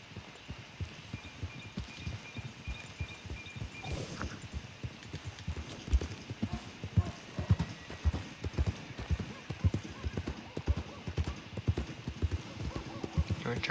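Horse hooves clip-clop steadily in Red Dead Redemption 2, a continuous rhythmic trot mixed with game ambience and occasional talk, with a faint whinny-like sound partway through.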